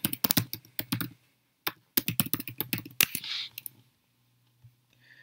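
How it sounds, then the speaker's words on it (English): Bursts of quick keystrokes on a computer keyboard as a domain name is typed, close and crisp, with short pauses between clusters and a final soft click before quiet. "and then type in the domain that you already own."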